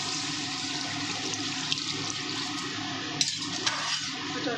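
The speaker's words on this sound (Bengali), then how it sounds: "এবার আমি জল দিয়ে দেবো।" Water poured steadily into a pan holding mustard-poppy seed paste for a Bengali fish curry, a continuous close rushing splash with a few small clinks.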